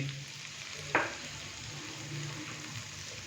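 Finely chopped cabbage and capsicum fry in a pan for vegetable soup, a low continuous sizzle broken by one sharp scrape of stirring about a second in, with no voices.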